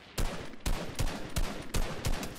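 Gunfire in the video game Fortnite: six loud, close shots cracking in an even, rapid rhythm with no talk over them.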